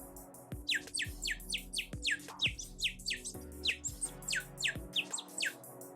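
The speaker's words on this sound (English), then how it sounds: "This is a print you can make. A bird whistle." A water-filled 3D-printed bird whistle warbles in quick repeated bursts of bright chirps, trilling rhythmically like birdsong, close and loud with no talk.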